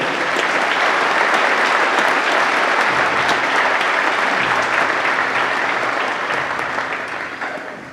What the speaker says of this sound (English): Let's offer them a round of applause for their participation.